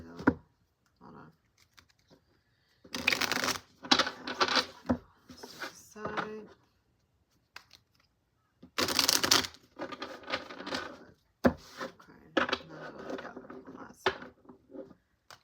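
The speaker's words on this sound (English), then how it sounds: "I want to get one good shuffle though" A deck of large, heavy tarot cards is shuffled in several rough bursts of flapping and riffling, separated by pauses. A person speaks briefly in between.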